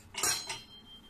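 Butter is scooped into a bowl in two quick scraping clinks of a utensil against the dish, close and fairly soft, with no talking.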